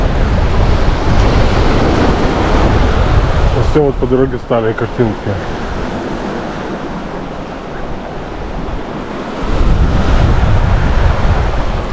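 Sea waves at a breakwater on the Rügen coast make a loud, continuous broadband rush mixed with wind buffeting the microphone. Someone speaks briefly in the middle, and the surf swells back up afterward.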